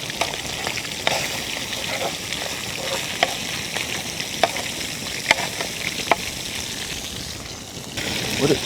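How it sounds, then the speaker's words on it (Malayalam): Karimeen fish frying in hot oil, a loud continuous close sizzle and crackle with scattered sharp pops and spatters throughout, swelling slightly at the end. "ആദ്യം ഒന്ന് മീനിനെ ഒന്ന് ഫ്രൈ ചെയ്തെടുക്കണം"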